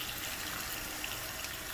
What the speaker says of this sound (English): we're going to use warm water